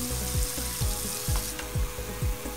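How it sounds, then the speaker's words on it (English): Hot water splashes and pours in a steady stream into a container to soften a toy action figure, with rhythmic gurgling pulses and a faint hiss. "So I'm going to get some more hot water in here."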